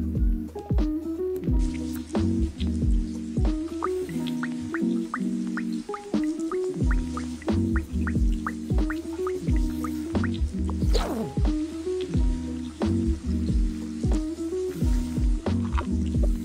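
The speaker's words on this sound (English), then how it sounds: "I'm just going to be taking a little shower." A shower running in the Toca Boca game, heard as a steady stream of droplet-like drips and squishy splashes over a continuous tonal backdrop for around sixteen seconds, fairly loud and with no talking.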